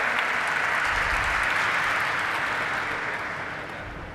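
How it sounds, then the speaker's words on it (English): Audience applause at a company's stock exchange listing ceremony in Mumbai, a steady, full crowd of clapping hands that holds dense and even for several seconds before gradually thinning out. "Let's have a huge round of applause, everyone, for Mr. Parth Shah, the Director of Shreni Shares."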